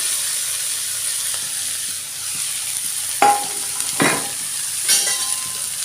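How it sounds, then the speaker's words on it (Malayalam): Chopped bean pieces hit hot oil that already holds popped mustard seeds, giving a steady sizzle broken by three sharp scraping stirs of a spoon against the pan, with no speech. "അരിഞ്ഞു വെച്ചിരിക്കുന്ന പയറിൻ്റെ കൊക്ക അതിലേക്ക് ഇട്ട് കൊടുക്കാം"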